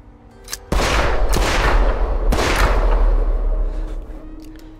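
Several loud, close gunshots crack out in the horror game The Quarry, sharp blasts with rolling echoes, followed by quieter aftermath.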